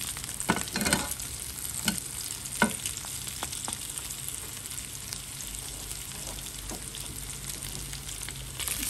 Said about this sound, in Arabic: هجيب حته ليا دلوقتي واحطها في الزيت ده